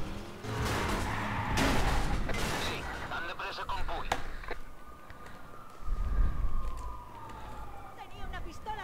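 Police siren from the video game Wheelman sweeping faintly in the background behind heavy crashes, engine roar and impact bangs, with someone talking over parts of it.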